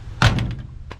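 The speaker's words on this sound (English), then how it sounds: "Doors on this old girl shut really nice" A door on a 1969 International truck shuts with a single solid, close thunk, followed by a brief lighter rattle and a faint second knock.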